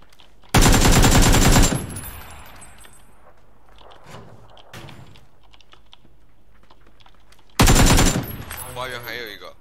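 Machine-gun fire in a video game comes as two loud, close, sustained bursts separated by several seconds of quieter background with faint speech.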